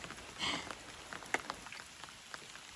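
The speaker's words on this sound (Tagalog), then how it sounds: "On and off ang ulan po dito ngayon." Rain falls during a night of fishing, with the faint, steady patter of drops striking a surface such as an umbrella. A few louder taps and splashes stand out against the soft hiss, and nobody speaks.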